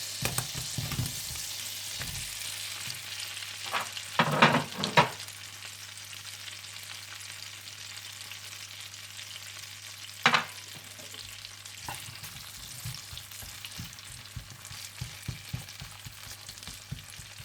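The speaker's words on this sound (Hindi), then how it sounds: "फिर इसमें आलू डालकर पकाएं जब तक कि आलू अच्छी तरह से गल जाए और हल्के से ब्राउन होने लगे" Potatoes fry in oil in a pan for a Spanish omelette, giving a steady soft sizzle, with a few scraping stirs of a utensil and light clinks partway through.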